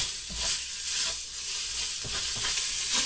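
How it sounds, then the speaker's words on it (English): Grated garlic hitting a hot pan inside a beef pot roast preparation, giving a steady bright sizzle with a few soft scraping stirs, close and alone without talk. "I like to grate my garlic directly in the pan."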